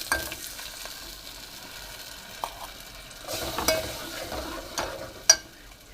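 Ground masala paste frying and stirred in a pan: a low steady sizzle with scattered scraping clicks and knocks of a spoon against the metal, close and fairly quiet, no talk.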